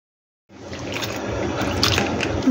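Water trickling slowly from a tap as the supply runs out, a thin steady run of splashing and dribbling that starts abruptly after a silent beat and continues close and even, with no talking.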